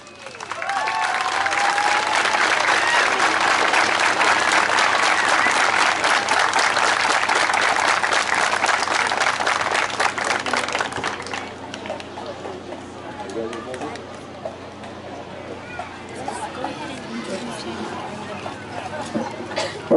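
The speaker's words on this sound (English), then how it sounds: "ask for a round of applause from the audience" A crowd at an Armed Forces Day parade in Rosamond applauds servicemen and veterans outdoors, a loud sustained wash of clapping for about ten seconds before fading into crowd chatter and ambient street noise.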